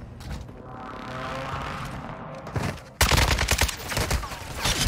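Gunfire in Warzone 2, a sustained burst of rapid automatic shots followed by a sharp, loud volley of close cracks and impacts.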